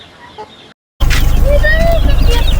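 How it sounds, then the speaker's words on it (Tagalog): A flock of about 15 Rhode Island Red chickens cluck and chatter nearby at a small farm, a busy sound over a rumbling background after a brief silent gap. "Ito yung ating mga manok na 15 piraso"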